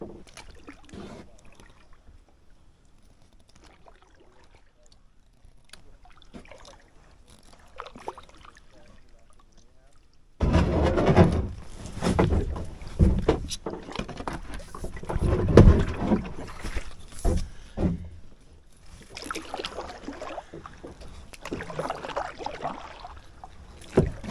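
Canoe or kayak paddled on a lake, faint quiet water at first, then louder close splashes, paddle strokes and hull knocks mixed with wind buffeting the microphone.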